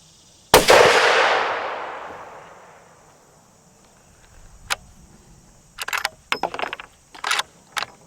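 A Ruger American rifle in 450 Bushmaster with a muzzle brake fires a single loud, close shot at an outdoor range, its blast decaying over about two seconds, followed by small metallic clicks and clinks of handling.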